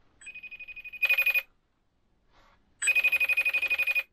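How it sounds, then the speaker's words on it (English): A mobile phone rings after being triggered remotely from a Ticwatch Pro 3 Ultra. Two loud bursts of ringtone sound, each a steady tone that turns into rapid pulsing, separated by a short quiet gap. "if you lost your mobile phone, you can actually press the button and it'll make your phone ring."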